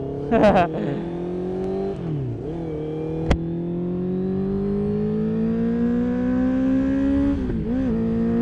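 A 2023 Honda CBR 650R motorcycle engine accelerating hard through the gears on a ride, with a rising whine, a brief dip between shifts and a sustained high rev, close and loud, with a voice heard briefly near the start.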